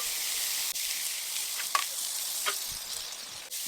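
Carrots and pea pods sizzle on a Blackstone griddle at a campsite, a steady bright hiss with a few sharp pops and spatula scrapes, close and loud.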